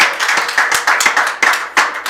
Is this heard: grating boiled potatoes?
no